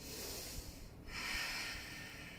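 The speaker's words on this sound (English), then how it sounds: "try to contract your throat so you should hear the exhale" Audible yoga exhale through a contracted throat, a faint breathy hiss drawn out over a couple of seconds, close and quiet with a brief pause midway.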